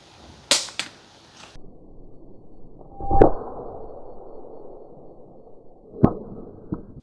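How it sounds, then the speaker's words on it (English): An Acebeam Tac 2AA AA flashlight dropped from a roof lands with a few sharp metallic clangs and bounces, an initial cluster of hits, then a loud impact midway and two lighter clinks near the end, with no talking. "we're going to go drop it off the roof, see if it survives that"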